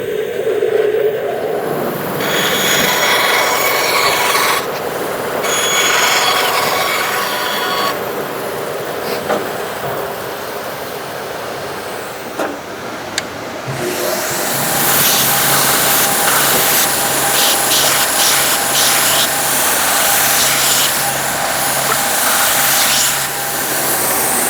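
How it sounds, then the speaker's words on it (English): Bandsaw cutting wood for a small bookshelf, then a power sander whirring steadily on the workpiece; continuous loud machine noise throughout with no talk. "I'll do most of my work here on the bandsaw and then finish it on a power sander."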